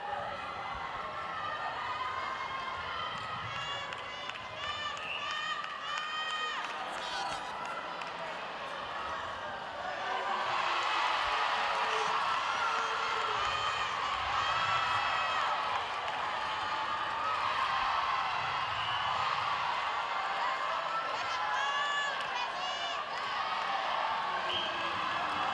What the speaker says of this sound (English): Crowd go wild. They're enjoying every single goal that pops through for the home nation